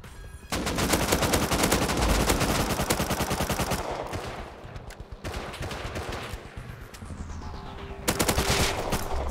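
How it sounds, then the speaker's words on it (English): Gunfire from a big battle in the survival game Rust, with dense machine-gun bursts and overlapping shots rattling almost nonstop at fairly close range, easing briefly in the middle before swelling again. "sounds like there's still a big battle going on up here"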